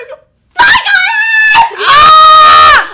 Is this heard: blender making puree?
no